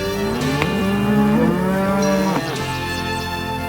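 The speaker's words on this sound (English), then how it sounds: "we're going to take this group of cows to another pasture" Cattle moo loudly and close in long, drawn-out calls that overlap one another as a group of cows is moved to another pasture on a ranch, with no talking.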